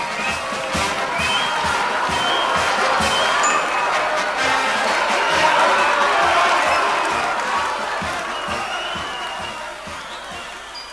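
A cheerful, jubilant crowd marches off to a village festivity, shouting and cheering loudly and continuously, with rhythmic stomping or beats pulsing underneath.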